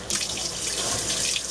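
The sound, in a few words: Haier portable washing machine filling with tap water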